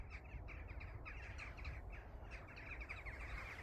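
Crows calling overhead outdoors as they fly past, a dense run of raspy caws and chirps over steady low rumble, continuous and fairly faint.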